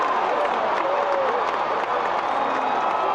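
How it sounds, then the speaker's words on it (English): Simulated Fenway Park crowd in a baseball video game (OOTP18) applauding a fine fielding play by the first baseman, a steady wash of clapping and cheering with scattered whoops, loud and continuous. "Fenway faithful applaud that play by the Gold Glove first baseman George C. Scott."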